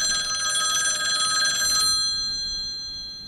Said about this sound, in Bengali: এত রাতে আবার ফোন, দেখ তো কে করলো।